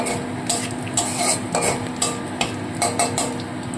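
Onion filling for stuffed pointed gourd being stirred in a pan with whole garam masala, a utensil scraping and clinking in repeated strokes over a soft sizzle, close and fairly loud.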